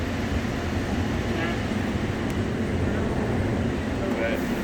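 Interior of the Las Vegas airport Red Line tram running between Concourse D and Concourse E, giving a steady low rumble and hum of the moving car that holds throughout, with no talking over it.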